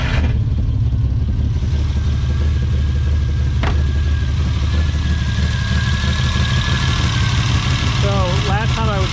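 A Ferrari 330 engine idles loudly and steadily, with a rough low rumble throughout and a brief rev near the end.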